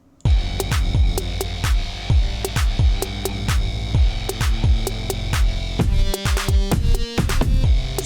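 A produced song mix with steady claps, kicks and snare hits punches out a driving beat under electric guitar chords, loud and dense throughout, with a brief break in the pattern near the end.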